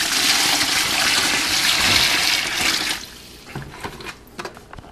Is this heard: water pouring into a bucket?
yes